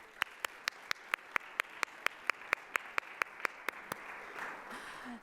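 One person claps alone, close by, with about sixteen crisp claps at a steady, quick pace, while faint room noise lingers at a business club forum. The clapping stops and a soft murmur continues briefly.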